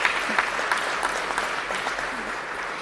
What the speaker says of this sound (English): I do want to give them a round of applause.